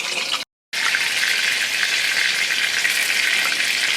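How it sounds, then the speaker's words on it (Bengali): Stuffed tomatoes filled with potato and spice mixture fry slowly in oil over a low flame, giving a close, steady sizzle that drops out briefly near the start and then runs on unbroken. "খুব হালকা আগুনে একদম আস্তে আস্তে করে আমি টমেটোটা ভেজে নেব"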